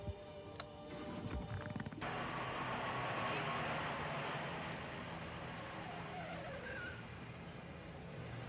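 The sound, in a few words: car engine starting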